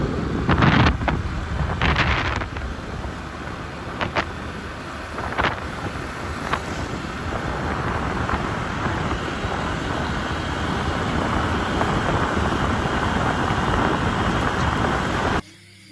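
Heavy rain pouring steadily in a dense, loud hiss, with a few sharp knocks and bursts near the start, continuing unbroken until it cuts off at the very end.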